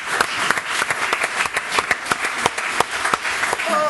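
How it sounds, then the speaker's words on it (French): Audience applause breaks out at a French-language quiz show, a steady run of sharp, dense claps lasting a few seconds at moderate loudness. "Applaudissements, s'il vous plaît."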